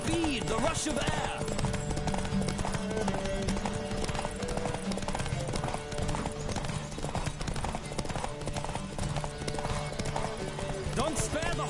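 Horses gallop in a race in the video game The Witcher 3, rapid clip-clop hoofbeats running continuously beneath frequent voices and shouting, with an occasional whinny.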